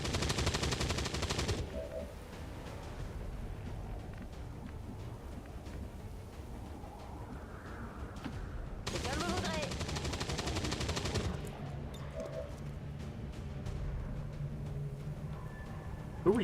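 Bursts of automatic gunfire in the XCOM 2 War of the Chosen video game, loud rapid volleys at the start and again midway, with quieter game ambience between them.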